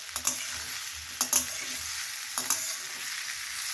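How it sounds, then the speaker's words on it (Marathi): Steamed amla gooseberries sautéed in a pan for a jaggery preserve: a soft continuous sizzle broken by three or four clattering spatula strokes, close by and without voices. "थोडं त्यांना आपण परतवून घेणार आहोत,"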